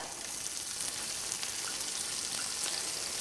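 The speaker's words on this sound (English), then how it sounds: "So now we're going to add in the spring onions that I've chopped up" Chopped spring onions hit a hot pan with bacon and sizzle, a dense, steady frying crackle close up that stays loud and even throughout.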